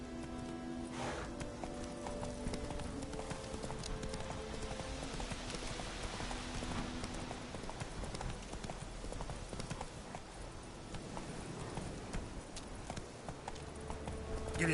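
A horse in The Witcher 3 gallops with rapid, unbroken hoofbeats, near and steady throughout, layered over sustained tonal game music.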